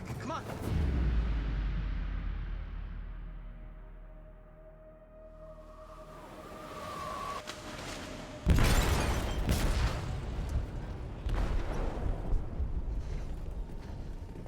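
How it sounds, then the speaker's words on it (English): A deep explosion in a ship's hold in Detroit: Become Human, opening with a heavy low boom that rumbles away, then a sharp second blast followed by crashing debris and ongoing turbulent noise, with some speech alongside. "They detonated an explosive in the hold"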